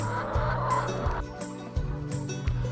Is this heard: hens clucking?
yes